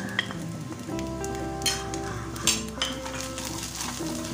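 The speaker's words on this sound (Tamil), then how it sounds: "இஞ்சி பூண்டு 2 நிமிஷம் நல்லா வதங்கினோடனே மிளகாய் தூளை சேர்த்துக்கோங்க." Ginger and garlic sauté in a kadai for kadai egg, with a steady sizzle under the clink and scrape of a metal spoon stirring against the pan.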